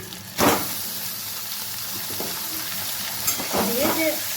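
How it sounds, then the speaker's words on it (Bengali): Mutton pieces go into a pan of frying onions, setting off a steady broad sizzle with a louder hiss burst near the start and a few scraping stirs toward the end, no talking over it. "পেঁয়াজটা একরকম হয়ে এসছে তো আমি মাংসটা এবার দিয়ে দিই"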